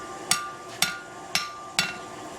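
A blacksmith's hammer strikes bronze on an anvil in four evenly spaced metallic clanks about half a second apart, each ringing briefly over a steady background hum, with no talking.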